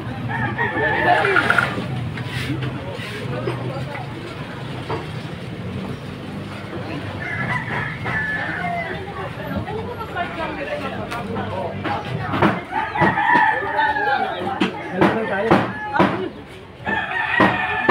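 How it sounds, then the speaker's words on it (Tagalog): Chickens cluck and a rooster crows nearby while people talk over the birds throughout. "Oh, may manok na naman dito."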